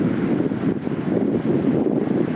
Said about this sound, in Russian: Тут ветра дуют.